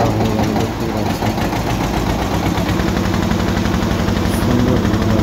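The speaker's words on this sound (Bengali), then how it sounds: "আমাদের নৌকা এবার স্টার্ট দিচ্ছে।" A boat's engine runs loud and close while crossing the Ganges, a steady rapid mechanical chugging that fills the clip with no talk.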